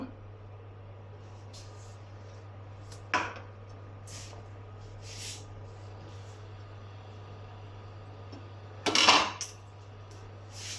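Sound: tawa pan placed on stove for frying fish

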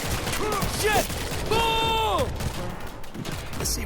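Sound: gunfire from the video game World War Z

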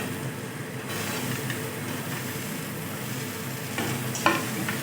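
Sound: potato pieces frying and stirred with spices in a wok

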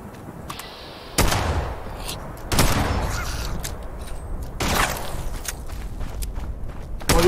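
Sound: pump action shotgun firing in the video game Fallout 76

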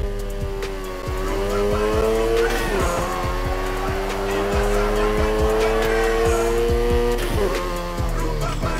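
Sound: car drifting with tire squeal in video game NFS Heat

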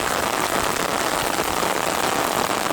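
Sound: heavy rain falling

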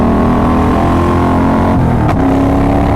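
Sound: motorcycle engine accelerating

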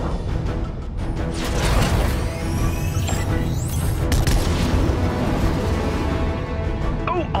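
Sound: laser cannons firing in a video game

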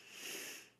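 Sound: sniffling from a runny nose

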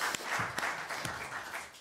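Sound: applause

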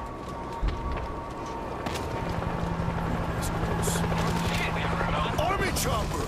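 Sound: army helicopter flying overhead with gunfire in video game World War Z Aftermath

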